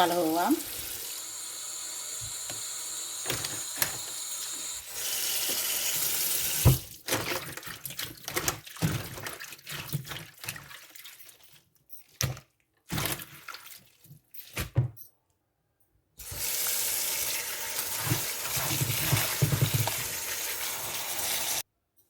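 Running water splashes and hisses in bursts, with pauses and wet handling noises as leafy greens are rinsed, starting and stopping several times.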